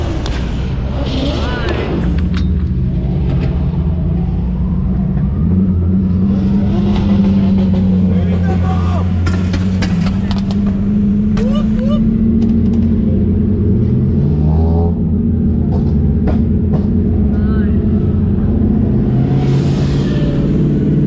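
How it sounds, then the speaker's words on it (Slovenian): Drift cars with JZ Supra, JZ S13 and turbo M50 setups sit at the start line, their engines rumbling and revving loudly and continuously, with pitch rising and falling over a deep, heavy drone. "To je hiter walk-by vseh avtov, od JZ Supre do JZ S13 do Turbo M50 setupov."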